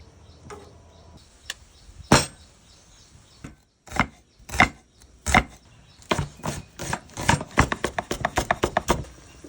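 Vegetables being chopped into small pieces with a knife on a board: a few sparse, sharp chops at first, then a quickening run of close, crisp strikes.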